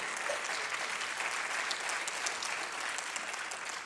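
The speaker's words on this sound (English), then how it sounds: "One more round of applause." Applause from an audience honoring inductees at an academy of master clinicians ceremony, a soft, continuous wash of many hands clapping, heard from a distance and without speech.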